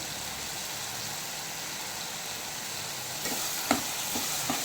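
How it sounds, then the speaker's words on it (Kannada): Brinjal pieces fry and get stirred in hot oil, a steady even sizzle that continues throughout, with a few sharper scraping or stirring knocks near the end and no talking. "ಸ್ವಲ್ಪ ಎಣ್ಣೆಯಲ್ಲಿ ಹಿಡಿದು ಫ್ರೈ ಆದರೆ ಬದನೇಕಾಯಿ ಚೆನ್ನಾಗುತ್ತೆ"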